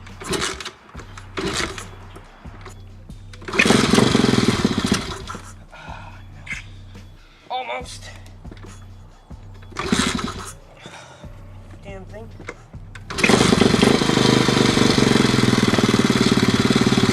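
A Honda CRF110 dirt bike is started for the first time after a graphics mod. The small engine cranks and sputters in several short bursts and catches for a few seconds each time, then settles into a steady, close, buzzing run near the end, with people talking between attempts.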